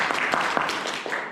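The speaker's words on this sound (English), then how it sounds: "A big clap, a big round of applause to everyone." A meeting audience breaks into applause, a short burst of clapping from a modest group that holds steady for just over a second, fairly close and with no talk over it.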